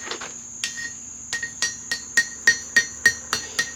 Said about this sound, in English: This is the hammer I should have been using.